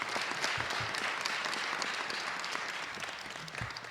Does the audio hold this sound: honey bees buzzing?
no